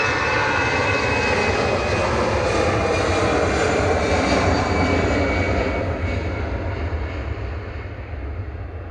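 Ethiopian Airlines jet taxiing at Manchester Airport, a loud, continuous engine roar with a high whine on top that stays close and steady, then eases slightly toward the end.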